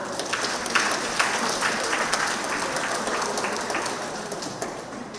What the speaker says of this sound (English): I think you need to give yourselves a wonderful round of applause